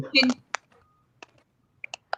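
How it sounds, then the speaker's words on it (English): Scattered keystrokes on a computer keyboard, a few sharp isolated clicks with pauses between them, after a brief burst of speech at the start. "I think she's typing."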